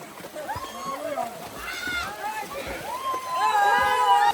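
Sea waves splash and slosh nearby while several people talk and shout over the water, in Gujarat.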